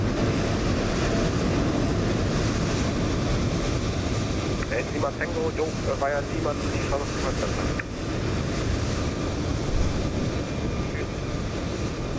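An MD-11 airliner in Microsoft Flight Simulator 2020 passes with a steady, loud jet roar that fills the whole stretch, while someone talks over it.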